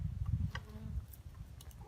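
A low, steady buzz of honeybees in a winter hive drones throughout, with faint scattered clicks and ticks over it.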